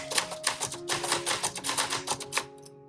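Keys clack in a quick, uneven rhythm on a 1966 Olympia SF DeLuxe portable typewriter, close and crisp for about two and a half seconds before stopping.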